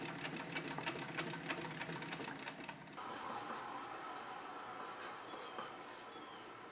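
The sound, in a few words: sewing machine hemming a leather tool bag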